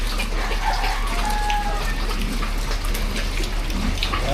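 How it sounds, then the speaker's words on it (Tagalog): Water is poured and splashed steadily onto the floor of a pig pen on a farm, making a continuous close rushing wash with a low hum underneath. "Buhos lang natin sa sahig."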